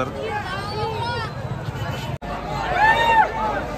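Huge village crowd gathered for the band procession, a steady dense hubbub of many voices and chatter close around, with a brief dropout midway before the babble swells again.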